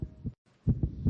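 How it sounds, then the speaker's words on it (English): A young child's racing heartbeat thumps in quick, deep, muffled pulses, close and alone, with a short gap before the rapid beats resume. "This is the sound of a racing heart."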